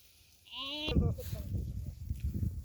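A single sheep bleats once up close at an animal sale, a brief wavering cry followed by someone talking over low background noise.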